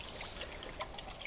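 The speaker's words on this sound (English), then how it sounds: "We're gonna start out with some apple cider vinegar, quite a bit of it." Apple cider vinegar poured for a homemade barbecue sauce, a soft, faint liquid trickle with small splashy ticks, close by and otherwise quiet.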